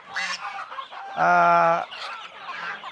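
Chickens on a garden farm cluck close by, with short broken clucks, one longer drawn-out call in the middle, then more scattered clucking.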